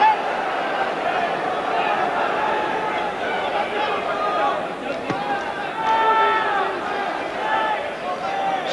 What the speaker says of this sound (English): So the Salvador crowd now keyed up, expecting a Sibson victory here.